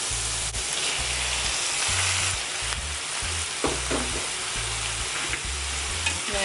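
Ackee and saltfish in a pan on low heat sizzle softly while a utensil stirs and scrapes through the mixture, a steady frying hiss with occasional clinks and no talking.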